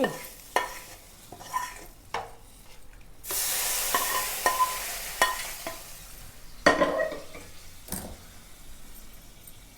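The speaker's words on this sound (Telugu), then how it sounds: "ఇదంతా కలిపేసుకోవాలి మంచిగా" Rice being mixed with fried ingredients in a thick-bottomed pot, heard as repeated close scraping stirs of a spoon and a burst of loud sizzling midway.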